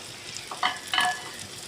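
Spiced paste for kasundi hitting a pan of frying spices, giving a couple of short sizzling bursts over a faint, steady background hiss.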